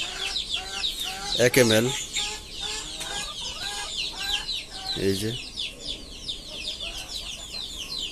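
Desi chickens cluck and squawk nearby while someone talks during a Ranikhet vaccination, with a couple of sharp louder squawks standing out amid continuous busy clucking.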